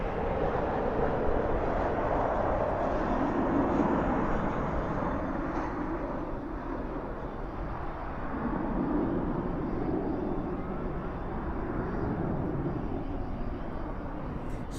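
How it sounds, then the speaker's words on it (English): An American Airlines Boeing 737-800 lands at Dallas/Fort Worth airport at night, heard as a steady broadband jet roar that holds at moderate loudness throughout with no talk. "That is American Airlines flight 941 coming in from Albuquerque, a 737-800."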